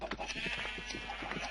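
Sheep in the Minecraft video game bleat faintly in short wavering calls against a steady background hiss.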